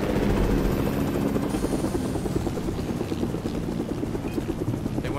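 Helicopter in a battle royale game, its rotor thumping in a fast, steady chop that starts loud and close, then holds at a constant level.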